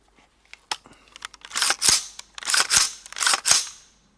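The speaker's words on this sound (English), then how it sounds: "Now we're going to shoot it and see if it has any effect on the operation of the rifle itself" A rifle fitted with a Geissele Super 42 buffer spring fires a string of sharp, loud shots, a few quick ones followed by several heavier reports spaced about half a second apart, with no talk.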